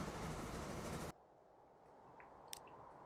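A freight train loaded with grain runs in the Transport Fever 2 game, a steady loud rumble that cuts off abruptly, leaving quieter ambient noise with a faint short click.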